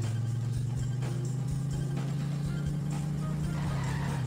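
Car driving in The Simpsons Hit & Run on PlayStation 2, a steady low engine drone with a faint rumble, fairly quiet and continuous throughout.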